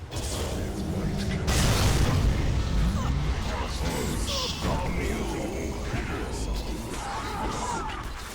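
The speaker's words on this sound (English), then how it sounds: "You just see them explode with our combined aim. Let's watch that again." Dota 2 team fight with Earthshaker, a burst of explosive booms and crashing impacts swelling to a heavy blast early on, then dense clattering combat effects continuing under game noise throughout.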